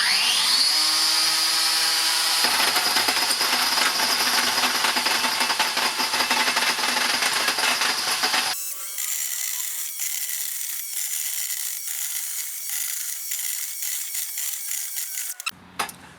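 A Makita 18V x2 cordless power head cultivator tilling hard soil, with a loud, continuous motor whine and tines grinding and scraping against the ground, which drops abruptly in pitch and texture partway through, then cuts off near the end.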